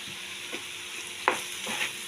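Grated radish fries in mustard oil with lentil bori and coriander leaves in a pan, giving a steady low sizzle with a few soft stirring scrapes close by.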